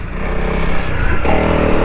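A Honda CRF300L Rally motorcycle revs hard for a wheelie off road, a loud continuous engine roar that climbs in pitch with a brief dip midway.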